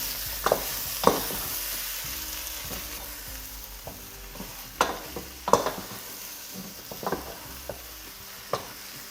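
Chayote pieces are stirred and fried in a pot for a Réunion curry, with a low steady sizzle broken by sharp spoon scrapes and knocks against the pot.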